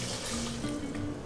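Water pours into a medium saucepan holding cranberries, a steady close splashing rush lasting about a second with nothing else heard.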